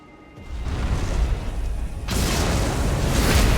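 A bomb pot blast in Elden Ring, played in a snowy field area: a low rumbling boom swells, then a second loud, broad burst hits around two seconds in and roars on without any talk.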